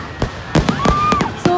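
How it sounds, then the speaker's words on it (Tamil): Several sharp fireworks bangs and crackles burst at a Diwali temple celebration, a quick cluster of loud pops with a rising whistle between them and faint crowd voices behind. "ஸோ சூப்பரான வான வேடிக்கை இருந்துச்சு."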